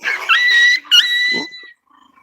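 A puppy growls and yips in close, high-pitched bursts, two rising whiny snarls with a short break between them, loud and alone before fading to silence.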